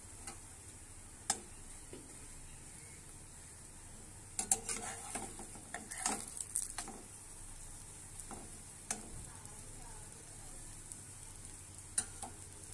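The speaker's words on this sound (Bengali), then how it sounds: "দেখতে পাচ্ছ পরোটাটা প্রায় ভাজা ভাজা হয়ে গেছে।" Paratha frying in hot oil, giving a soft continuous sizzle with scattered ticks and clinks of a utensil against the pan, fairly quiet and close throughout.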